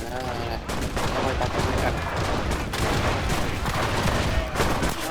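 Gunfire in the Enlisted shooter game: dense, rapid bursts of shots crack one after another in quick succession, close and loud, with a busy battlefield din underneath.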